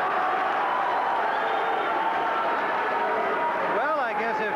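A boxing arena crowd roars and claps steadily for John Mugabi's ring introduction, a dense, continuous wash of cheering with an announcer's voice riding over it.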